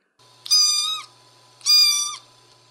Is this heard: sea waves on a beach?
no